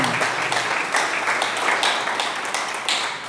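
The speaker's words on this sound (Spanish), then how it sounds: "Dele un aplauso a Jesús otra vez." A church congregation applauds during a Spanish-language sermon, a moderately loud, steady wash of clapping with rhythmic pulses, no talk over it.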